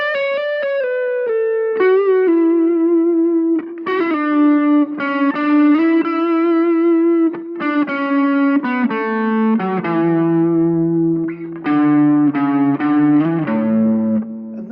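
Electric guitar with effects and distortion plays the chords and solo of a song, a continuous run of sustained, loud, bright notes and chord changes with no voices.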